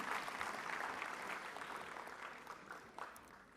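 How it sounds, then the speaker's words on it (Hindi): An audience at a film festival closing ceremony claps, a dense sustained round of applause that fades slightly toward the end. "इसके लिए ज़ोरदार ताली हो जाइए"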